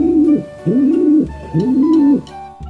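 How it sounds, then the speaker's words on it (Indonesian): Three soft, low cooing calls from a pigeon, each a rolling, rounded coo, repeated steadily and close by with short pauses between. "ada burung merpati."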